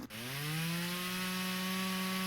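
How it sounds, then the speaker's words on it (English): Chainsaw from the Flashing Lights video game cutting into a tree, a loud steady whining engine drone that starts abruptly and holds at a constant pitch throughout, with no voices. "I love chainsawing trees."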